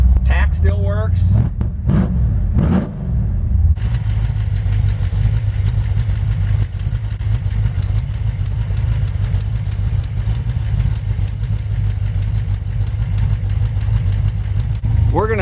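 A Dodge truck's 5.9 Magnum engine idles cold with a steady, loud, close rumble that holds even throughout. Brief clanks and a voice come at the start before the idle settles.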